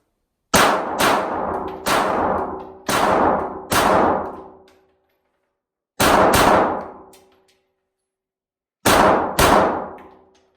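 A Glock 48 or CZ P10s pistol fires seven loud, sharp shots at close range. The first five come in a fairly quick string, then two more follow after pauses, and each rings with a metallic reverberant tail.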